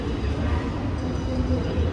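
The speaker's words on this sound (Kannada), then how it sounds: "ಮೆಟ್ರೋ ಸ್ಟೇಷನ್ ಒಳಗಡೆ ಬರ್ತಾ ಇದ್ದೀನಿ ಇವಾಗ." A metro train arrives at a station with a steady, low rumble and broadband rail noise filling the background, continuous and moderately loud, with no clear talking over it.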